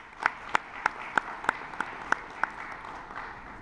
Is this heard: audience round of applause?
yes